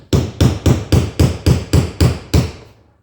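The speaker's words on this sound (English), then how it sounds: "but I just use a punch. And a really heavy hammer." Nine heavy, evenly spaced blows of a heavy hammer striking a metal punch ring out close by, each a sharp metallic strike, with a slight pause before the final hit.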